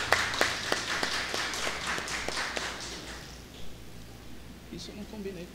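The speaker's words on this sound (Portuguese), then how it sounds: "Uma salva de palmas para a diretora nossa" Audience applause greets a school director before a lecture, a brief round of claps in the first three seconds that quickly fades into room noise.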